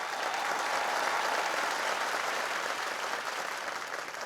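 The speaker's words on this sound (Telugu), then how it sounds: "చప్పట్లు కొట్టి స్వాగతం పలకండి" Steady, even applause from a studio audience welcoming a guest onto a business pitch show, a dense wash of clapping throughout that eases off slightly at the end.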